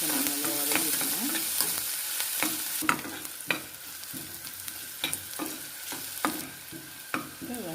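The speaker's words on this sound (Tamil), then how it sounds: "இதெல்லாம் வந்து நல்லா வெங்காயம் வதங்கிட்டோம்." Onions with ginger-garlic paste sauté in a pan for a potato sandwich filling, with a steady sizzle under repeated sharp spatula taps and scrapes against the pan.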